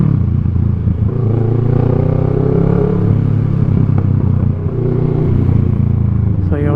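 A Kawasaki Z650 parallel-twin motorcycle engine idling and revving, a loud, close, rumbling drone with rising and falling pitch, steady throughout.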